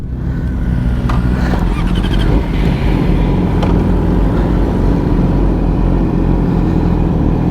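Sport bikes such as the BMW S1000RR, HP4, Kawasaki ZX-10R, Suzuki GSX-R1000 and Ducati Monster 796 ride together in a group. A loud, continuous engine drone with heavy rumble and wind buffeting dominates throughout.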